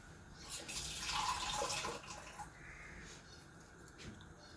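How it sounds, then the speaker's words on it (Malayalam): Running water splashes steadily into a pot of mutton for a couple of seconds, then eases to a softer trickle, with faint bird caws in the background. "ഇങ്ങനെ കുറച്ചുകൂടെ വെള്ളം ഒഴിച്ച് കൊടുക്കാം"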